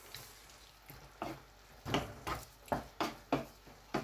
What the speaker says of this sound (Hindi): सॉल्ट ऐड करके मैं इसको अच्छी तरह से एक बार मिक्स कर लूँगा।